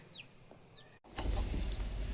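A hen clucks softly around a rural Konkan home in rainy weather, with short chirpy calls, a brief sharp cut, then louder rustling and a low background rumble.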